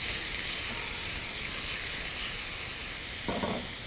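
Minced onions fry in a pan for dal, giving a continuous close sizzling hiss with a brief stirring clatter near the end.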